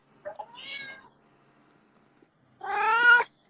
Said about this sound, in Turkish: Kedim de gelsin tam olsun. Aa geldi.